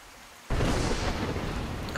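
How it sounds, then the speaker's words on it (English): Thunder erupts in the Skyrim video game, a sudden close crack that becomes a loud, broad rumble over falling rain and sustains to the end. "Love the thunder and lightning."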